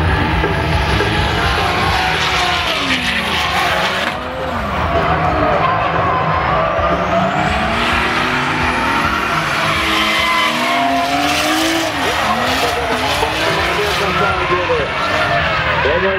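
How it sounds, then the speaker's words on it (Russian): Pair of drift cars running in tandem at the Gorilla Drift Energy 2018 event, engines roaring loud and continuous with wavering pitch sweeps and tire noise, a crowd and commentary voice running underneath throughout. "Ну, а мы все-таки хотим увидеть хороший парный дрифт"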